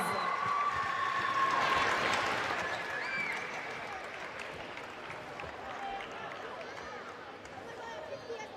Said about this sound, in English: Ladies and gentlemen, please give her a round of applause.